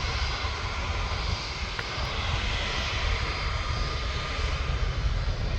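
Jet2 airliner at Manchester Airport on a hot day, engines rumbling steadily as it begins rolling toward takeoff, a broad continuous roar with no voices.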